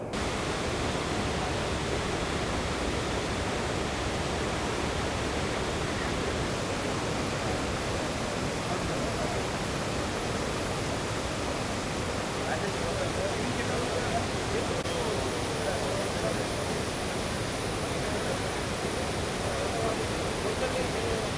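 Water rushing through Gerusoppa Dam near Karwar during flood conditions, a steady, dense roar that stays loud and unbroken throughout.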